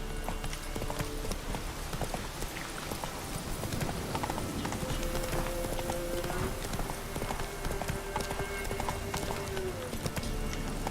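A horse galloping in The Witcher 3, with a steady, close drumming of hooves under game ambience, and a drawn-out whinny-like tone midway through.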